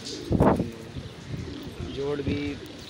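A stray pigeon, likely lost overnight and hungry, coos softly and close at hand in a few low, repeated murmurs, with a louder burst of noise early on and faint background sounds.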